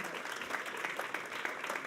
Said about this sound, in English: Round of applause, please, for Tom.